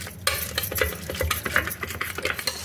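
Soft, wet stirring and mashing of tomatoes and toor dal in a pot, with scraping and light clinks of a utensil against metal, steady and close.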